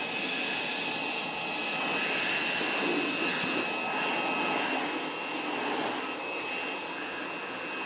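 A Xiaomi mini handheld vacuum cleaner runs continuously, a loud, high-pitched whine and airy rush held steady throughout, heard close with no talking.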